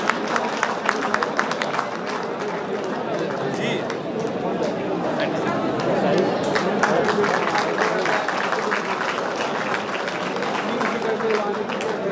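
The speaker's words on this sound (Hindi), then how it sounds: "आप लोग ताली बजाते रहें" An audience claps steadily and continuously at a stage event, a dense wash of applause with crowd murmur, while someone speaks over it.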